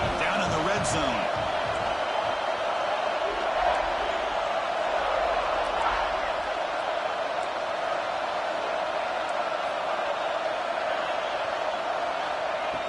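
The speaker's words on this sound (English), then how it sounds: "the crowd coming to life here, trying to help this defense down in the red zone" A stadium crowd in a college football video game, Florida against South Carolina, rising as a steady broad roar while a commentator talks over it.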